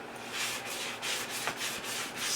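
A sanding block rubs back and forth over the edges of a small wooden baby's bow box, giving close, rhythmic scratchy strokes, about six passes in a couple of seconds.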